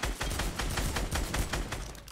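Rapid gunfire rattles in a tactical video game: a steady, fast string of sharp shots for about two seconds, loud and close, with no talking over it.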